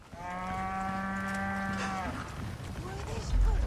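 A cow moos in the Resident Evil 4 video game: one long, steady low call that lasts about two seconds, followed by rustling game sounds.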